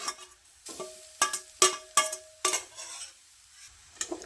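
A thick, dry sweet mixture is roasted over high flame, stirred with a series of sharp, rhythmic utensil scrapes and knocks against the pan, separated by short quiet gaps.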